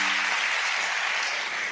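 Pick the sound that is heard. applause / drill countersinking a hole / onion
applause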